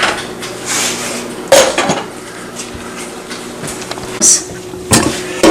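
Simmered clams being drained into another pan, with loud metallic clanks of pots and utensils, scrapes and bursts of clatter over a low hum.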